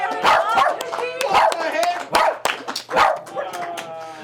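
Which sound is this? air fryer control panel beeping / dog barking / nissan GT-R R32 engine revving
dog barking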